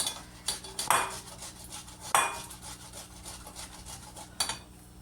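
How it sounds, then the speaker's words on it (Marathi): Raw potatoes grated on a metal grater in a home kitchen: quiet, uneven rasping strokes broken by a few sharp metallic clinks, close by, with no talking. "आपण आता बटाटे किसून घेतोय."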